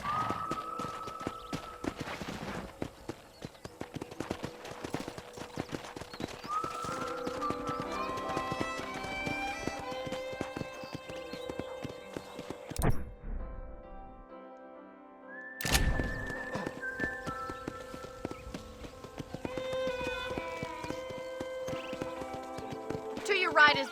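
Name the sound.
horse trotting in the video game Red Dead Redemption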